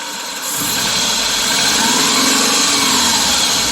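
A 2001 Subaru Legacy engine runs rough at idle, a close, steady drone that swells slightly after the first half-second and holds with no voices over it.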